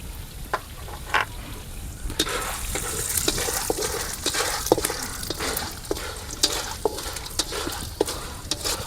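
Urad dal and chana dal roast in a hot pan as lemon rice is made, with a soft steady sizzle broken by repeated sharp scrapes and clacks of stirring, close by and without speech.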